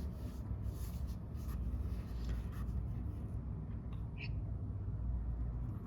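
Felt-tip cut marker scratching across paper while a Riqah calligraphy letter is written, a soft continuous rasp under steady low room hum, with brief pen strokes near the end.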